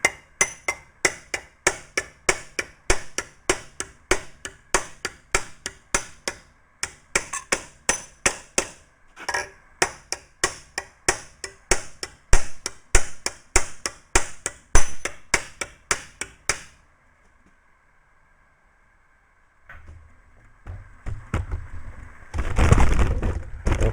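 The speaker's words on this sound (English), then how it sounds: "we're going to take the hammer and we're going to work down" Rapid, ringing metallic hammer blows shape a sheet-metal front panel for a Willys Jeep, struck close and rhythmically for about sixteen seconds, then a pause followed by softer handling noise and a louder rumble.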